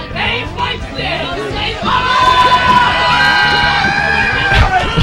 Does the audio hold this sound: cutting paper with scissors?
no